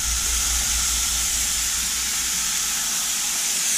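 Italian sausage meat fries in a skillet, giving a steady, close sizzle and hiss that runs continuously without pause.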